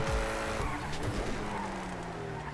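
A tuned Nissan GT-R sports car in a video game revs loudly with a strained engine drone and brief tire skids, a steady close engine roar throughout with no talking.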